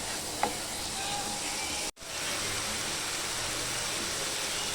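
Spices and eel fish sauté in a pan as a steady, soft frying hiss, continuous and close, with a brief drop-out partway through and no talking.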